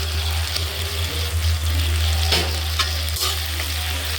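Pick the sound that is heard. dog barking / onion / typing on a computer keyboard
onion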